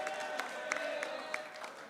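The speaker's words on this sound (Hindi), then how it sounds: "तालियां होना चाहिए भाई बदी के लिए।" Audience at an award ceremony claps in a brief burst of applause, a dense patter of hands at moderate distance and fairly faint.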